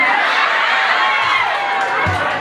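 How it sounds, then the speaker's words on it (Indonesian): An audience at a humorous Sundanese sermon claps and cheers in a dense, loud, unbroken wash of applause mixed with whoops and crowd noise. "tepuk tangan dong"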